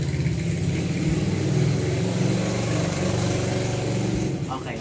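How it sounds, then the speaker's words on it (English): A loud motorcycle engine rumbles steadily and close by on a street, a continuous low drone that fades slightly at the end, with a voice faintly under it. "Okay, ang ingay po yung motor,"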